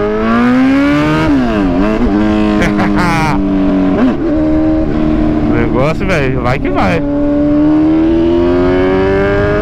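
A loud Honda Hornet 900 motorcycle engine revs repeatedly through a large horn-style exhaust, pitch sweeping up and down in sharp bursts, with someone talking over it close by.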